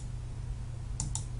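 Two quick, crisp computer mouse clicks close together, sharp and close against a low background hum.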